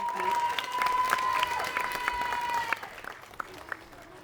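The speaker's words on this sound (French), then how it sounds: "On peut l'applaudir très fort" A theatre audience at a stage show claps and applauds, loud at first then thinning to scattered claps, with tones and voices briefly mixed in.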